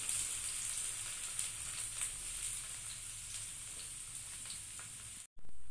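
Four chopped large onions hiss and crackle in hot oil for a kothu dish made from leftover chapati, a soft steady sizzle with faint crackles throughout, cut off briefly near the end.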